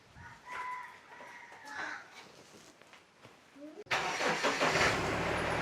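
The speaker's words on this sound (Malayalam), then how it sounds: "അങ്ങനെ വണ്ടി സ്റ്റാർട്ടാക്കിട്ടോ" A vehicle engine starts abruptly near a house in rubber-plantation country and settles into a loud, steady running rumble. Before it starts there are faint roosters crowing and soft voices.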